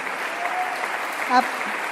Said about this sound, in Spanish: Este aplauso es para nuestro Rey